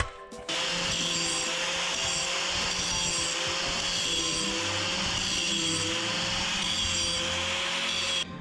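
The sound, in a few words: grinding metal axle mounts clamped together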